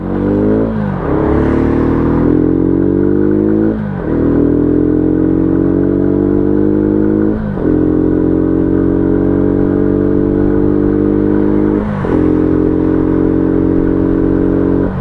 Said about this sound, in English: I've been waiting weeks to get out on this bike, and I am looking forward to every second of the ride